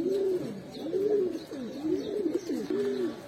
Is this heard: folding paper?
no